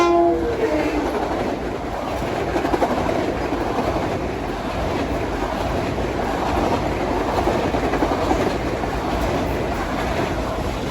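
An eastbound LIRR train passes Mineola station at evening rush hour, a loud, sustained rumble with a horn blast at the start and rhythmic wheel clatter continuing throughout.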